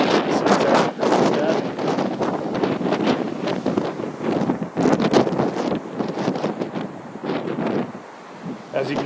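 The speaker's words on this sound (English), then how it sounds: "As you can see, it's pretty windy." Strong wind buffets the microphone in loud, uneven gusts at sunset in Pacifica, a constant rumbling roar that surges and eases.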